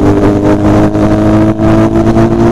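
A Kawasaki Z900 superbike runs close by at a bike event. Its engine makes a loud, steady drone with strong tonal harmonics that barely dip throughout.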